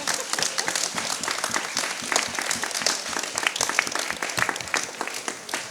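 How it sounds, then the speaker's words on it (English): A seated audience at an arts talk event in a Venetian palazzo gives a dense, steady round of applause, many hands clapping close together from start to finish. "Big round of applause for Trevor Paglen."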